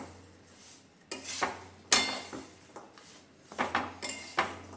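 Jaggery stirred in a pan over low heat, ahead of making peanut chikki: a few sharp metallic scrapes and clinks of a utensil against the pan, in separate bursts close by, with quiet pauses between them.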